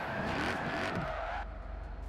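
A tuned Mercedes-AMG car drives through a roundabout, with a brief tire squeal and engine rush that sweeps past and fades into a low rumble.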